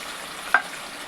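Tomato, garlic and ginger paste hits hot oil with curry leaves in a kadhai, a soft close sizzle with one sharp splattering pop midway, no talking.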